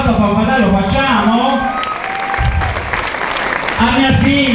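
Applause and cheering from a gala audience at Café Noir, with a dense crowd wash carrying along under amplified voices and background music.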